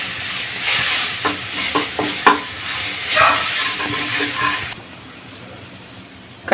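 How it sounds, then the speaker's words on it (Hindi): Garlic ginger paste sizzles and spatters in hot oil while being stirred, with scraping clinks of a spoon; the frying stops abruptly near the end. "पेस्ट को फ्राई कर लेंगे।"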